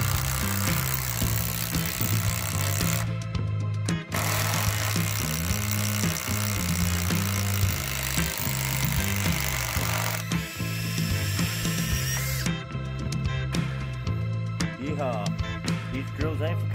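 A Makita 40V impact driver runs steadily, its motor humming under a harsh, continuous rattle of ratcheting impacts, broken by a few brief pauses and changes in pitch across the run.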